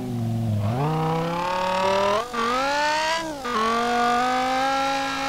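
Inside Street Legal Racing Redline, a game V10 engine pulls hard and loud, pitch rising through the rev range with two quick gear shifts marked by short dips before it howls on again.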